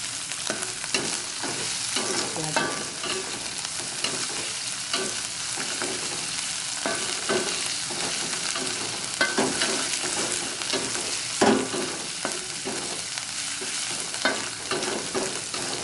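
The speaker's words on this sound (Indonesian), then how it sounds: "Aduk-aduk terus sampai matang, sampai harum ya." Spices for nasi kebuli stir-fry in a pan with a steady loud sizzle throughout, while a spatula scrapes and stirs in repeated strokes up close, with no voices.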